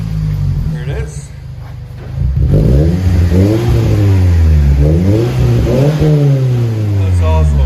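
A 2014 Scion xB engine revving hard through a loud Tsudo titanium exhaust, rising and falling in repeated throttle blips over a deep, rumbling idle, close by.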